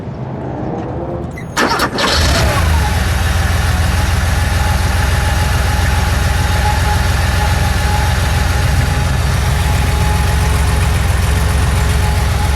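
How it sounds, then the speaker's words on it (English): A 1983 Porsche 911 SC custom cabriolet engine cranks and catches, then settles into a loud, steady, rumbling idle close by that continues unchanged for over ten seconds, with no voices. "We'll let it idle and then we'll give it a little rev."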